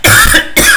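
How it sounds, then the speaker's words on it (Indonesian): A single harsh cough, loud and close to the microphone, in a short burst with a brief gap and a second rasping exhale, made by someone setting up a streaming server. "Duh, kenapa jadi batuk kayak gini ya?"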